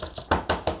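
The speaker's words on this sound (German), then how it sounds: "Noch ein bisschen klopfen, dass es gleichmäßig verteilt wird." A cake tin holding lime no-bake cheesecake filling set with agar-agar is tapped on a surface to level it: a quick series of about five firm, close knocks in an even rhythm, with no voice over them.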